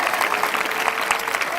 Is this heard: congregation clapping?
yes